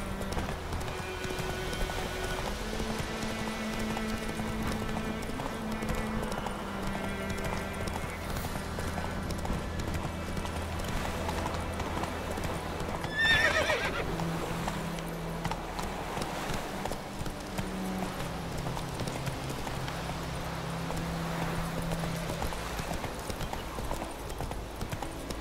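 Steady clip-clop of a horse's hooves at a quick pace in the video game The Witcher 3, loud and close, over layered music with a brief bright flourish midway.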